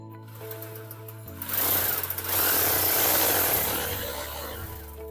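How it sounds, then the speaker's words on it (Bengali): Electric drill boring into a wall to mount a water purifier, a motor whine that starts after a second and swells into a loud, steady grinding roar that eases slightly toward the end, with no talk. "আমাদের যে ডিল মেশিন আছে এই ডিল মেশিন দিয়ে এখানে আমরা একটু ডিলটা করে নেব"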